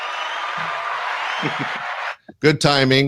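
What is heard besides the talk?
audience applause for a comedian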